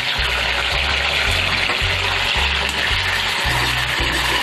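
A dhokla mixture goes into hot oil and sizzles loudly and steadily, a dense frying hiss with a low rhythmic bubbling underneath, close and without talk.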